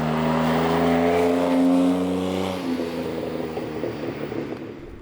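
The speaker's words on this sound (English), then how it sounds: "This is my lovely 1981 DeLorean." A 1981 DeLorean engine runs close by with a steady, tonal hum that rises slightly before easing off into a rougher, fainter idle.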